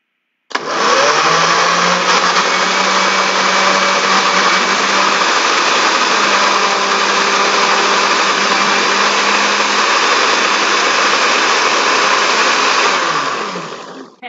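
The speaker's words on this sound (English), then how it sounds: "before I turn my blender on" A kitchen blender whirs loudly and steadily for about thirteen seconds, starting abruptly and winding down at the end, with no talking.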